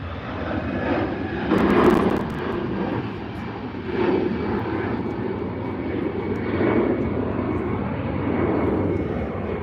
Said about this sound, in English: Where's this EasyJet going?